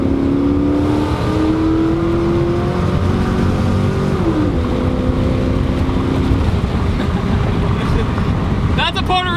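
A Pontiac Firebird Trans Am drag car pulls hard, its engine roaring loudly and steadily from inside the car with rising pitch sweeps as it accelerates, then a brief chatter at the end.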